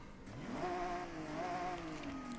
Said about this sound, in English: Then we've got street exhaust.